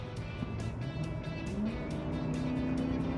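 Ford F-150 pickup engine revving up steadily with rising pitch and a shift in tone, continuous moderate drone from inside the truck with no talking.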